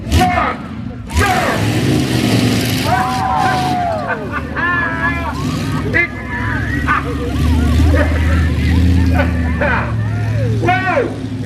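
Monster trucks roar through an arena at the 2017 Heckington show, their heavy engines rumbling loudly and continuously beneath an announcer's voice and a cheering crowd.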